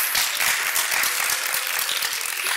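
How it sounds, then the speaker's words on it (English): Dense, sustained applause from a large crowd at a political speaking event, a steady wash of many hands clapping together with no voices over it. "Give yourself a round of applause."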